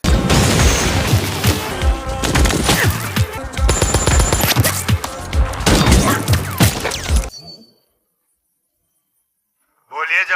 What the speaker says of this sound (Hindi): यहाँ पे शदीद फायरिंग हो रही है